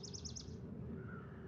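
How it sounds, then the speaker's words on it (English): Birds chirp outdoors in a short run of quick repeated high calls at the start, with a fainter call later over steady background noise. "The birds is chirping, and then the crickets will be chirping."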